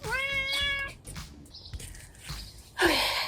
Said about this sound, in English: The neighbor has a cat that Moody wants to visit